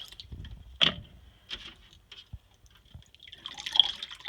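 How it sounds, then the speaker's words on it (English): Water drips and splashes from hand-dyed yarn being lightly wrung out by hand, a few sparse, quiet, close drips and squishes in near silence. "Now I'm going to kind of lightly wring them out"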